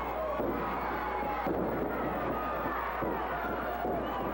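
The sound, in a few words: wrestling crowd cheering for Bobby Fulton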